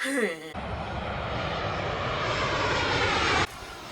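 An airplane engine roars overhead, a loud, dense rumble that lasts about three seconds and cuts in and out abruptly, following a brief voice.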